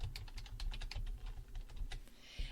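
Typing a caption on a computer keyboard, close and fairly quiet, with a steady run of quick key taps that keeps going with no pauses for about two and a half seconds and no voices.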